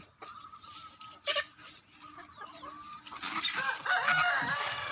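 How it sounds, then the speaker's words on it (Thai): Farmyard chickens kept among goats, clucking at moderate distance, then a rooster's crow and a burst of busier clucking and squawking that grows louder through the second half. "ไก่ก็นอนน้ำกันกับแพะ"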